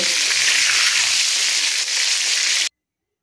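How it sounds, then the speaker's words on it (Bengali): Chicken kofta meatballs deep frying in a pan of hot oil, giving a steady, loud broadband sizzle with no voices, running continuously for a few seconds before cutting off abruptly. "মাংসের বলগুলো কিন্তু খুব সুন্দর করে এপাশ ওপাশ লাল করে আমি সুন্দর করে ডিপ ফ্রাই করে নিয়েছি"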